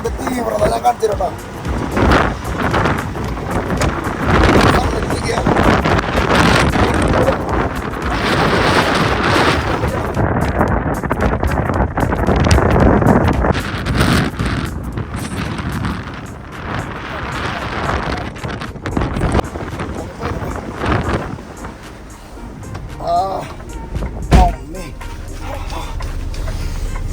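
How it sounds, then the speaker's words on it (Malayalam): Strong, freezing wind roars and buffets the microphone in a steady, loud blast on a trucking trip in the USA, while a person talks over the gusts. "കാറ്റിന്റെ തീവ്രത ഞാൻ കാണിച്ചിട്ടുണ്ടോ?"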